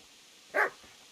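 A single short dog bark in the medieval video game Kingdom Come: Deliverance, clear and mid-distance against a quiet background.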